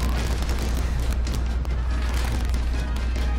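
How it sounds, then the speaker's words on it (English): Mortar shells bursting in a World War II shooter game, a loud continuous rumble of heavy booms and crackling blasts with no pause. "So keep throwing these mortars."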